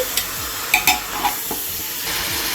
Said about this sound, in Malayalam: നമുക്കിതൊന്ന് ഇളക്കി കൊടുക്കാമേ.